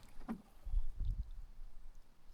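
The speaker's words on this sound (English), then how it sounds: "it's a good time to hone my paddling, my strokes." A canoe paddle dips and pulls through calm water on a solo trip in Algonquin Park, giving a couple of soft, close splashes and swishes against a quiet outdoor background.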